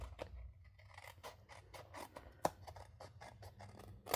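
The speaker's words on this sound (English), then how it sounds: "I'm just going to snip this off here at the bottom" Scissors snip through paper card stock in a close, quiet series of crisp cuts, with a few sharper clicks of the blades, on their own without talking.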